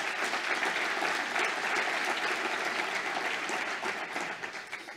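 Sustained, loud audience applause fills a hall at a Spanish-German business meeting, a thick continuous patter of many hands that holds steady for five seconds and eases slightly at the end.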